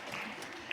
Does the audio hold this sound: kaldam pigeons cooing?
no